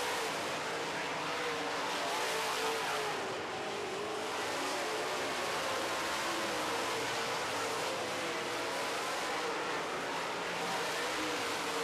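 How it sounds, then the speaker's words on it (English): Race cars run on a racetrack during a race, several laps from the finish, making a constant, dense roar of engines and tires that stays loud and even throughout. "Ricky Weiss coming through the pack."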